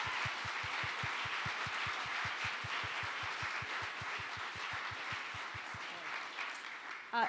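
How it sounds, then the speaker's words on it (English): Audience applause at the Women at AIAA SciTech Forum keynote, with a steady rhythmic clapping pulse under a broad wash of hands, holding for several seconds before tapering off at the end. "Let's give her another round of applause"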